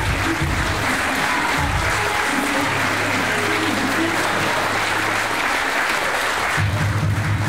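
A crowd applauds steadily after a professional wrestling match at the Unlimited Wrestling Ocean Bash 2022 event, loud and sustained throughout, with low rumbling voices and crowd noise underneath.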